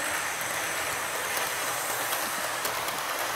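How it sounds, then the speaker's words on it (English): Hornby Hitachi model train locomotive with a 5-pole motor running around a home layout, giving a steady, close, hissing whir that holds evenly throughout with no talk. "So I'll now take some short little clips of the locomotive running around my layout."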